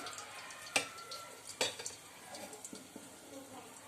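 Whole spices such as star anise, cardamom, cinnamon, mace and peppercorns frying in a pressure cooker: a soft low sizzle under two sharp metallic clinks and lighter stirring taps, close by.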